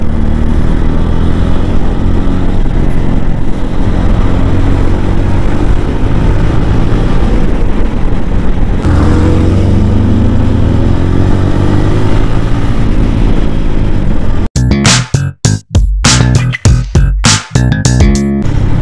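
Motorcycle engine accelerating on a night ride along R.K Beach in Vizag, a loud sustained roar with rising pitch and heavy wind buffeting, then choppy broken bursts near the end.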